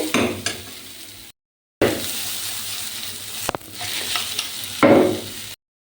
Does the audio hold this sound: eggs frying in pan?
yes